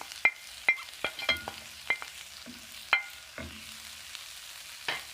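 Spring onions tossed into a pan of keto noodles, with a series of sharp clinking utensil strikes and stirring scrapes over a faint low sizzle, close and fairly quiet, no voices.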